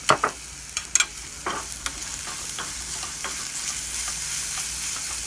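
Garlic sautéing in oil for a garlic chutney, a soft steady sizzle up close punctuated by several sharp clinks and scrapes of a spoon early on, then settling into an even frying hiss.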